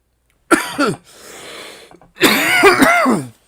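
Harsh coughing fits close up: a couple of hacking coughs, a raspy breath, then a longer burst of heavy coughs.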